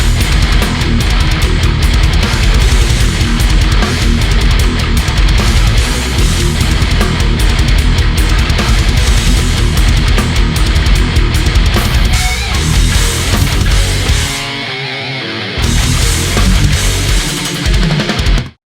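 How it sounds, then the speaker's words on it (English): Dense, loud technical death metal in a Californian style: fast, distorted guitar riffs over pounding drums and bass, a wall of sound with a brief dropout near the end before the band crashes back in. "there's also riffs on there at like 3 minutes and 19 seconds in that sound like this Cali death sound"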